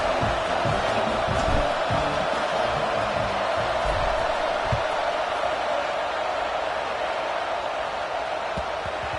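In College Football 25, a stadium crowd at a Georgia versus Notre Dame online dynasty game produces a steady, dense, somewhat subdued roar that holds evenly throughout, without distinct cheers.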